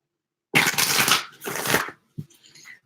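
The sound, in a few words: shuffling tarot cards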